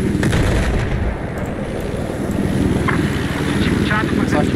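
An enemy helicopter in a Battlefield match drones with a heavy, continuous rotor rumble, mixed with distant gunfire and battle noise while a player talks over it.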